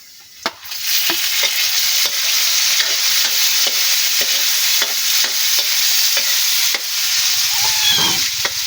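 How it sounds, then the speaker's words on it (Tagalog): Tomatoes sizzle loudly in a frying pan, a steady close hiss broken by repeated clicks and scrapes of stirring throughout. "okay na to at ilalagay ko na itong kamatis."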